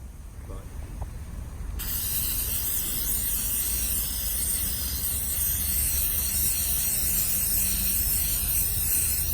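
Steady close hiss of spray adhesive being applied to sagging headliner fabric in a Ford Explorer, starting abruptly after a quiet moment and running continuously without pause.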